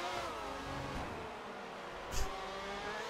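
F1 2018 racing game Formula 1 car engine revving and accelerating, a steady high-pitched whine with rising harmonics, close and continuous, with a brief louder burst near the end.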